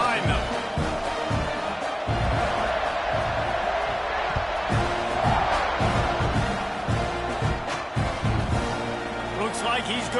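A packed stadium crowd in the College Football 26 video game keeps up a steady roar with scattered cheers and thumps, under a broadcast commentator's continuous play-by-play.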